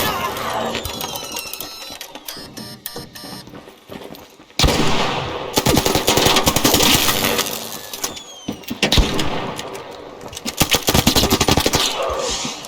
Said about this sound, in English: I pushed forward with my submachine gun to finish him off